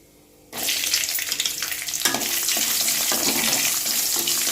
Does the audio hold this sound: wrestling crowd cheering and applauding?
no